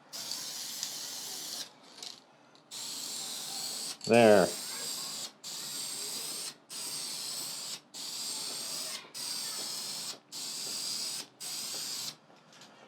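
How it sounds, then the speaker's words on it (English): Repeated bursts of hissing from an aerosol spray-paint can while refinishing a guitar, each about a second long with short pauses between, plus a brief rattling shake near the start. "I don't know what's up with my spray can"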